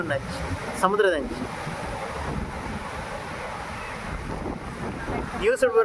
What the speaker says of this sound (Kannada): ಸಮುದ್ರದಲ್ಲಿ ಪ್ರಕ್ಷಬ್ಧ ವಾತಾವರಣ ಐತ